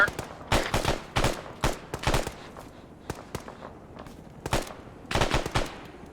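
Bursts of automatic gunfire in the military shooter Arma, several rapid volleys and single shots clustered across the stretch, loud and close with short gaps between them.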